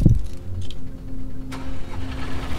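In a Tomb Raider Legend video game, a small generator engine out of fuel sputters briefly and fails to catch, then goes quiet, with a faint mechanical hum continuing beneath.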